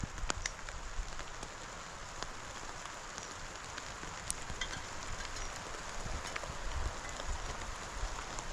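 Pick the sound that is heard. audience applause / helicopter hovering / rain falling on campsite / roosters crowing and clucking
rain falling on campsite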